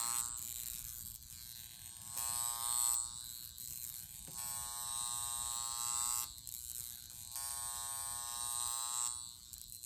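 A high-frequency skincare wand buzzes steadily as it is brushed through hair toward the scalp, a close, bright electric whine that shifts slightly in pitch and strength as it moves, with no talking.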